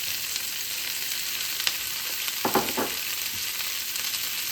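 Onions, peppers and mushrooms sizzle steadily in a hot pan, a constant bright hiss with a few soft stirring scrapes near the middle.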